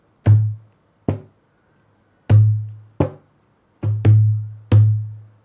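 Deep, resonant dholak bass strokes on a loosely tuned drum sound alone, about seven booming hits at an uneven pace, each decaying quickly into silence.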